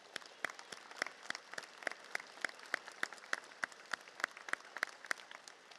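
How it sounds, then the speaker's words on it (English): A graduation audience at a commencement ceremony applauds, with fairly distant, steady clapping and a few sharper individual claps standing out. "All of you, please applaud yourself, applaud your families"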